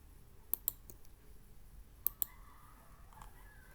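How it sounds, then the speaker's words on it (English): Sparse computer mouse clicks, five sharp close taps in two small groups over a quiet background, no speech. "I will click on playbook experience."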